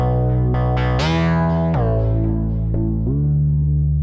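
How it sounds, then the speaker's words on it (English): A Majella Implexus synthesizer patch plays a series of sustained, bright, harmonically rich notes with a gritty, effected tone. Each new note starts with a sharp attack and then rings out, with no talking. "now if I play something very softly and now very loud, that makes for a very expressive patch."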